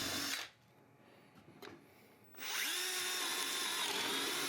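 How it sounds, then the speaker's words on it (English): A power drill boring holes in a wooden post whines loudly, cuts out for a couple of seconds of quieter handling, then spins up again and runs steadily, close by. "When you're done drilling, be sure to clear out any sawdust that may be left in your holes from drilling"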